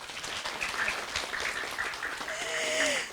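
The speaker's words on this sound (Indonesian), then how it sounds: "Boleh tepuk tangannya?" Audience applause at a religious program in a prayer hall: a dense, steady wash of hands clapping throughout, fairly close, with a brief voice faintly underneath near the end.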